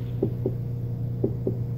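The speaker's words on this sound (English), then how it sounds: "You got that lovely heartbeat sound." Heartbeat effect from a shape-mode baby toy: four soft low thumps in two pairs, a quick double beat repeated after a pause, over a steady electronic hum, with no voices.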